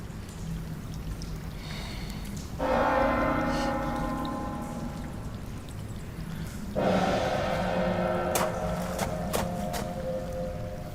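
A night-watchman's third-watch gong is struck twice in the dark night, and each loud metallic clang rings on with a long, echoing decay.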